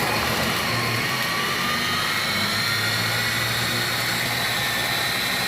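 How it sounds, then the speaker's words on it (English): A blender puréeing beetroot whirs steadily and loudly throughout, a constant motor drone with a broad rushing hiss and no pauses. "Throws it in, and we're going to blitz it together."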